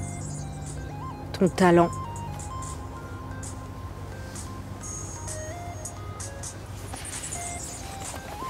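A newly set mobile phone ringtone gives a short melodic, chiming burst of a few rising notes, then falls quiet over a steady background hum while people talk nearby.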